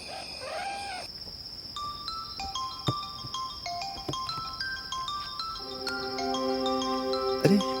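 A phone ringtone plays a stepped electronic melody of bright beeping tones, fairly close and clear, growing fuller toward the end, in a Hindi thriller scene.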